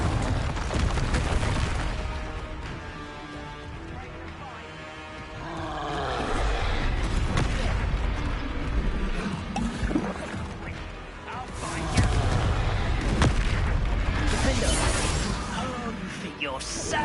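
Explosive spell blasts from Hogwarts Legacy combat burst and rumble among crashing, roaring game effects, loud and continuous over about seventeen seconds, with voices shouting over the action.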